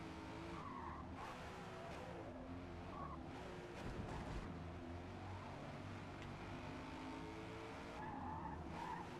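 A race car's tires lock and squeal under braking and steering in Forza Motorsport on Xbox Series X, a faint, sustained skid over a steady engine drone, with brief swells of screeching and no talk.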